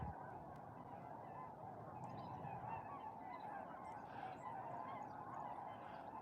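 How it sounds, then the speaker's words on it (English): A flock of snow geese honks steadily from a distance in flight, calls overlapping in a continuous chorus against a constant background rumble, during a snowstorm at Middle Creek Wildlife Management Area. "A couple of snow geese are flying this way"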